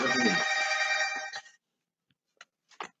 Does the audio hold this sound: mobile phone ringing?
yes